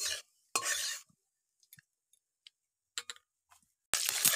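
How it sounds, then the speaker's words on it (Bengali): Dried red chillies and nigella seeds are stirred in a frying pan, giving short, close bursts of scraping and sizzling separated by quiet gaps with faint ticks and clinks. "একটু নেড়ে নেবো।"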